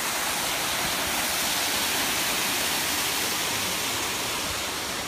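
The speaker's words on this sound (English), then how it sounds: "It's like got a waterfall." Steady broadband rushing of a waterfall in a park, continuous and fairly close, with no voices over it.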